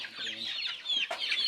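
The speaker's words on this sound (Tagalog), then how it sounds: "dito papakawalan namin yung mga bagong batch ng manok" Newly released batch of farm chickens clucking and chattering together, a busy overlapping flock of short squawks and clucks close by, with a brief louder flutter near the end.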